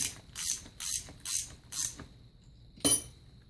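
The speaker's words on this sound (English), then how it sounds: "deep wall socket and we'll pull these two screws out here" A ratchet with a deep wall socket clicks in five quick, evenly spaced bursts while backing out the screws that hold a starter motor to its gear reduction nose cone, followed by a single sharper clack. Close and fairly quiet, no talk.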